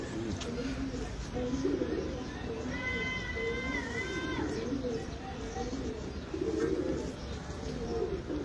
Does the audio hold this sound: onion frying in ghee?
no